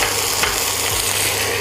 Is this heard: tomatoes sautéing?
yes